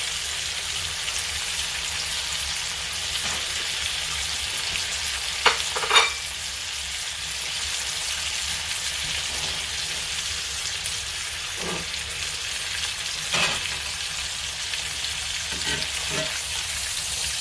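Ribeye steaks searing in a hot pan during a reverse sear, a steady dense sizzle with occasional spatters and a few utensil knocks as the steaks are turned.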